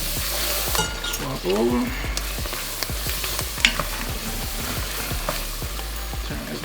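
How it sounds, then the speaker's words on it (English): Vegetables wilt in a roux in a hot pan, sizzling steadily while a utensil stirs and scrapes in quick repeated strokes, with occasional clinks and a few brief spoken words. "we can go ahead and wilt these vegetables down while also still cooking our roux"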